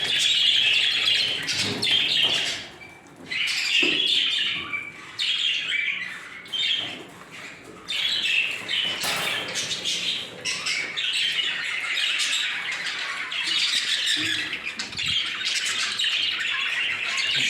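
Jumbo budgerigar chicks squawk and chirp in a busy, close chorus of shrill calls that rise and fall throughout, with brief quieter gaps.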